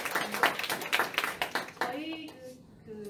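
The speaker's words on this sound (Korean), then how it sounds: "우리 번역학회 회원님들께서 신영어영문학회 이 임원단 여러분들께 박수 한번 보내드렸습니다" Scattered clapping at a translation society's spring academic conference, with a few quick hand claps rising over a murmur of voices before a speaker starts talking near the end.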